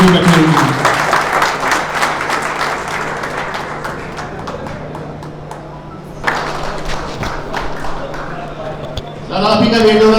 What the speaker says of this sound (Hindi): तो प्लीज़ एक बार जोरदार तालियां जितने भी हमारे उस्ताद कराम यहाँ स्टेज पे बैठे हुए हैं।